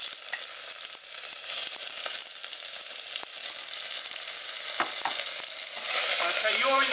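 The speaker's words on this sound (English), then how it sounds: "This frying isn't worrying me." Onion puree fries in vegetable oil in a pan on an electric stove, a steady close sizzle with occasional stirring scrapes and small pops, with no voices.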